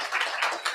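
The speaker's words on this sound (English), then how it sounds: "Let's give him another round of applause." Brief burst of audience applause after a tech talk, a short dense patter of clapping from a small crowd, fairly close and without voices.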